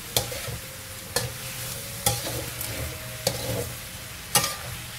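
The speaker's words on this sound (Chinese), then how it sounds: "慢慢的翻炒它，可以用力用一点力也可以" Pork belly and cucumber stir-fry in a wok with dried scallop, carrot, pickled radish, garlic and ginger. A spatula scrapes loudly about once a second over a constant sizzle.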